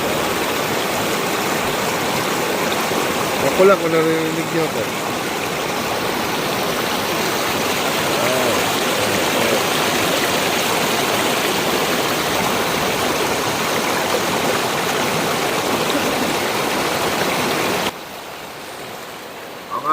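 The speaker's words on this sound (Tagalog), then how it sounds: "Kaya tubig bagsa." Water pours steadily from a height into a rock-built pool at a river spot in Zambales, a loud continuous rushing roar that carries on almost unbroken, with someone speaking briefly over it.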